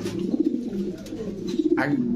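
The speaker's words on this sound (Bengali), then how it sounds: "দর্শক আবার দেখেন নরের ডাক, দেখলেই প্রেমে পড়ে যাবেন।" A male domestic pigeon gives its courtship coo, a steady throaty rolling call repeated close by with little pause, alone without speech.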